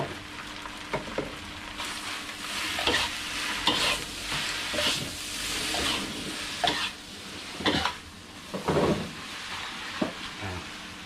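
Pad thai with shrimp and fried tofu being stir-fried, giving a continuous sizzle with brisk, irregular scraping and tossing strokes of the spatula in the pan, up close and fairly loud.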